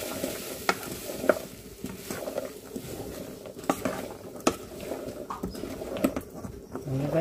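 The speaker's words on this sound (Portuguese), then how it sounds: "E aqui eu coloco mais milho para refogar." Corn sautés in a pan with garlic, onion and butter, giving a soft, steady sizzle broken by irregular spoon taps and stirring knocks.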